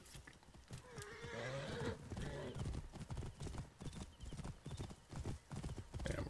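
Horse hooves clip-clop in a quick, steady rhythm while riding in Assassin's Creed Origins, with a neigh and faint background game sounds; the gait stays close and continuous.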